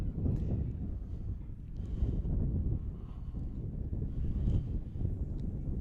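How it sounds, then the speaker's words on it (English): A strong gust of wind buffets the microphone at an outdoor high school softball game in Delaware, making a continuous low rumbling roar that swells and eases. "Here comes a huge gust,"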